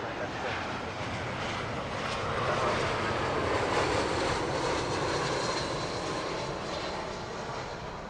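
British Airways Boeing 777 passing at Heathrow Airport, a broad, steady jet roar that swells slightly in the middle and eases off, with a voice talking underneath.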